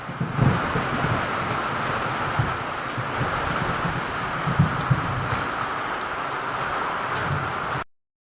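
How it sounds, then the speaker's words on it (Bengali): Strong storm wind roars steadily with a constant broadband rush and occasional low rumbling surges, in Bhurungamari, Kurigram district, with no voices. "সেই চমকানোর আওয়াজ"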